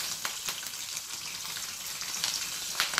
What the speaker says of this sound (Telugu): ఇప్పుడు పోపు దినుసులు వేగిన తర్వాత ఫస్ట్ పచ్చిమిర్చి వేసుకుందాము.